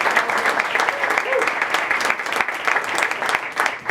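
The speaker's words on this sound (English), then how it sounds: "Big round of applause for Heather." A live storytelling audience breaks into a loud, sustained round of applause, dense claps from a crowd filling the room for about four seconds, with a voice faintly heard under it.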